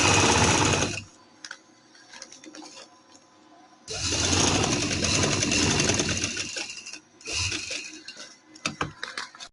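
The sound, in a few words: sewing machine doing double stitching on trouser fabric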